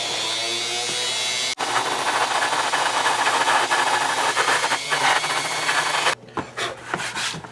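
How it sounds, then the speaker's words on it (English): A rotary tool sands the foam seams of a Game of Thrones dragon egg prop, a steady close whirring grind with rasping friction that cuts off sharply and gives way to a few scattered scrapes. "now I'm just going to take my rotary tool and I'm going to clean up all the seams"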